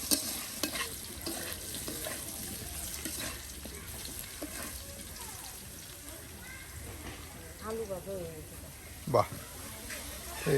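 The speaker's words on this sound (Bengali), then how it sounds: "যে আলু ভাজা কিন্তু হয়ে গেল" Potatoes stir-fry in a pan with a continuous sizzle and occasional scraping stir strokes, heard under ongoing talk.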